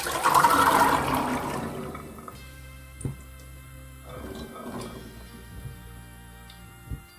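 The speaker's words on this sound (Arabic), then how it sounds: "انا دلوقتي هضيف الحمص بتاعي هنا. طبعا الميه دي نضيفه تماما، دي اخر ميه انا حطيتها له، فهضيفه كله بالميه بتاعته" Chickpeas tipped into a cooking pot together with their clean soaking water, a loud liquid gush at the start that tapers into faint trickles and a few small knocks.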